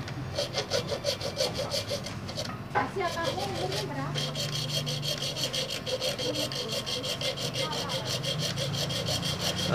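Steady back-and-forth sawing through bone for a guitar nut and saddle, rhythmic rasping strokes close by, continuing throughout with a brief interruption near the start.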